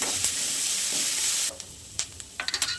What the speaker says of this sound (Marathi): आता थोडंसं त्याला भाज्या असा परतवून घ्यायचं, सॉफ्ट होईपर्यंत परतवून घ्यायच्या